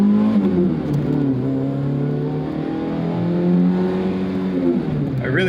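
A Toyota AE86 with a 4AGE 16V engine pulls hard on a stretch of road, revs climbing and dropping through gear changes as a loud, close, buzzy drone heard from inside the car.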